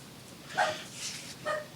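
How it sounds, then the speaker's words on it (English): A dog barks at a door: two short, close barks with a faint whine between them, and no talk. "Now he's barking out the door."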